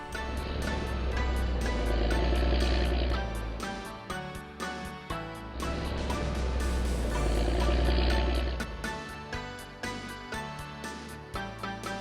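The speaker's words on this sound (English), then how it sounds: "Orange. Bulldozer." A bulldozer's heavy engine rumbles loudly in two long surging passes, punctuated by clanking, rhythmic mechanical knocks between them, with no talking.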